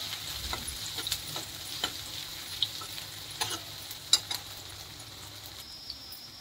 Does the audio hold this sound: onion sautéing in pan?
yes